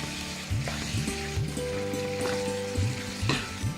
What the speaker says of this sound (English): as the tomato is cooking, I use the back of the spoon to break it up to give it a nice smoother texture